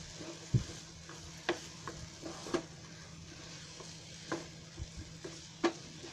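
Spring onion leaves roasting in a pan for a Marathi jhunka, with a low, steady sizzle under several sharp scraping stirs and knocks spaced a second or so apart.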